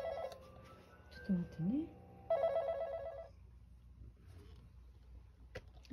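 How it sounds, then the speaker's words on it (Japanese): A telephone rings indoors in a rural home, a short electronic ringing burst over a quiet room, with someone speaking briefly before and a small click at the end. "電話だ。"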